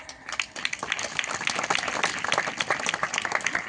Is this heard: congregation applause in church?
yes